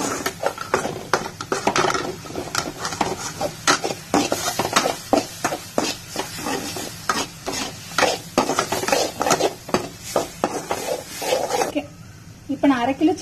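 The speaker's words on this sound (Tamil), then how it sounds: "நல்லா வதங்கட்டும்" Masala with chilli powder sautéing in a pan and being stirred, with repeated scraping strokes in a steady rhythm and a continuous soft sizzle, close by, under ongoing speech.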